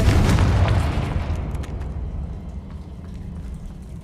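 A Confringo spell explodes in Hogwarts Legacy with a loud, close boom that rolls off into a fading rumble and scattered crackling debris.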